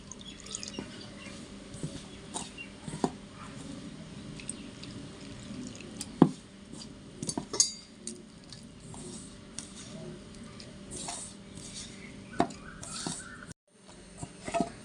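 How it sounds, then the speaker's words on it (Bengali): Flour dough mixed with salt and water is kneaded by hand, giving soft wet squishes and sticky drips in an irregular rhythm, close and fairly quiet, with scattered sharper slaps and no talk. "শুধু একটু নুন দিয়ে আর জল দিয়ে মেখে নেবো"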